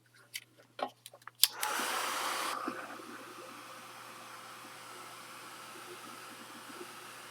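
A few clicks and taps come first, then a Prima Color Bloom spray gives a sharp, close hiss of about a second. A softer, steady hiss trails on afterward.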